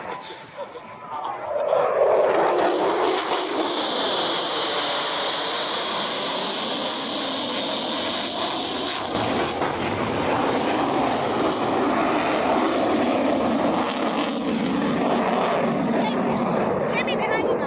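F-16 Fighting Falcon fighter jet making a high-speed pass at an air show, a roar that swells quickly and then holds a loud rushing, whining thunder, with someone talking over it.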